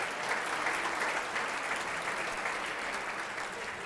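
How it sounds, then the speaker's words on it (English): Round of applause from the audience at a comedy magic show as a child volunteer comes up on stage, a sustained wash of many hands clapping at steady loudness throughout. "Let's give him a round of applause as he makes his way"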